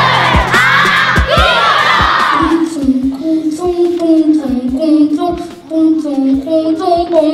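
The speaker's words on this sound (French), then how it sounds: "Ah ouais, vous pouvez les applaudir." An audience of children cheers and shouts loudly for a class of students in a dense burst lasting a couple of seconds. The noise then gives way to a single voice speaking over softer background chatter.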